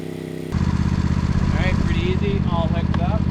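Lawn mower engine running steadily after a sharp start, loud and close with a buzzing drone, used during lawn dethatching with people talking over it.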